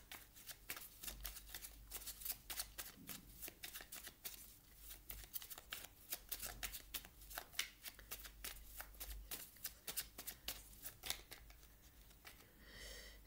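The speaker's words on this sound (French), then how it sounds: "Je vais vous tirer une dernière carte du petit oracle de la mission de vie" Oracle cards being shuffled before one is drawn: a fast, continuous riffling and flicking of cards, close and soft, with short pauses and a final flurry.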